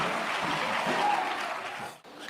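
A church congregation applauds, a dense, steady wash of clapping from many hands in a reverberant hall that cuts off abruptly.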